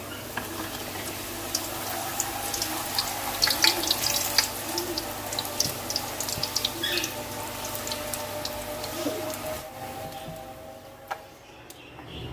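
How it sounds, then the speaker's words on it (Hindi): Puris frying in hot oil for halwa puri, a steady close sizzle with crackling bursts that stays continuous and fades slightly toward the end, no talking. "देखें, हम पूड़ी डाल रहे हैं इसमें"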